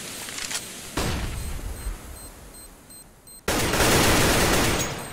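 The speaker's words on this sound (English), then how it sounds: "Flashbang." A flashbang grenade goes off in the CS:GO video game, two loud broadband bursts a few seconds apart, the second long and harsh, with faint high beeps between them and no voices.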